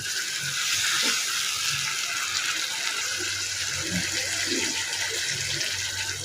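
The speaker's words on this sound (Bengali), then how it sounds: "আলুগুলো কষানোর জন্য আমি এর মধ্যে দিয়ে দিলাম পানি" Water is poured into a pan of potatoes being fried, a loud, sustained rushing hiss and bubbling that runs evenly from start to finish without speech.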